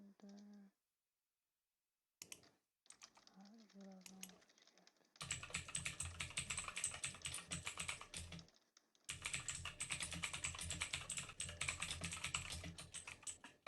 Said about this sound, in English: Okay, I'm going to try to type faster just to be extra impressive.